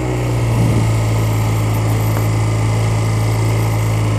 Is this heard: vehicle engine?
yes